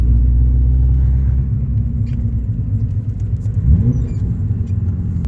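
A turbocharged Nissan 240SX with an RB engine swap drives along with a steady low rumbling engine drone and a slight rise in pitch, heard close and continuous without talk.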